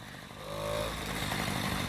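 A Peugeot 103 moped engine fitted to a motorized bicycle runs steadily with a buzzing two-stroke drone and rattling clatter, close and fairly loud with a slight rise in pitch, and no talk over it.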